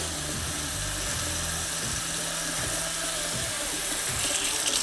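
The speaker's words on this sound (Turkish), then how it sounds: "Suyun altında biraz gezdirdikten sonra şampuanı döküyoruz." Tap water runs in a steady, close, continuous rush while a hair prosthesis is rinsed under the stream, with no talking.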